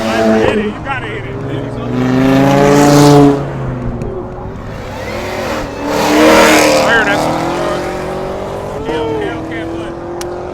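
Dodge Hellcat accelerating hard at a cars and coffee meet, its engine surging in two strong swells that rise and fall, with people talking over it throughout.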